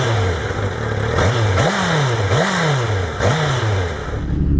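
A Honda CBR1000RR on its stock exhaust idles then blips the throttle four times, each sharp rev rising and falling back, a close, buzzy tone with a faint whine in the background.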